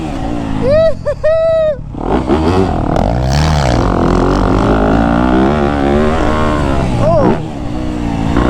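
A 2025 Yamaha YZ250F dirt bike revs sharply on a hidden sand track in the woods, its engine pitch rising and falling through several quick bursts, with people talking over the motor noise.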